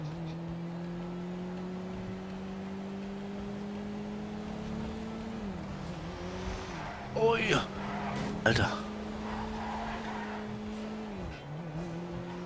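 A mid-range car in GTA Online on a motorway, engine droning steadily before two sharp tire squeals as it skids, while a man exclaims briefly over the game sound.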